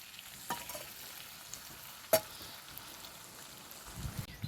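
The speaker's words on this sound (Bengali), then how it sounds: "ভালো করে আলু ফুলকপি টক দই মিক্স করে নেব।" A spoon stirs sour yogurt into potatoes and cauliflower in a pan, soft faint sizzling with a few sharp clinks of utensil against metal, one louder knock near the middle.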